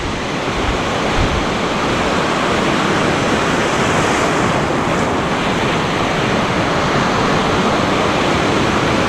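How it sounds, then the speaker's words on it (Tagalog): Big ocean waves crash and surge continuously on a shallow fishing spot, a loud, steady roar of surf with wind buffeting the microphone throughout. "Lalaki ng alon."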